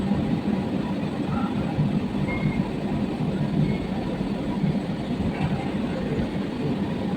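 A Kolkata Metro Orange Line train running between Beleghata and Kavi Subhash, heard as a steady, continuous rumble and rolling rail noise with a constant hiss, no voices.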